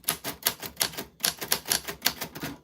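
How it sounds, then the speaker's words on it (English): Rapid clacking of typewriter keys in bursts, close and crisp, with a short pause midway before the typing resumes; no talking. "Your name was on the typewriter ding."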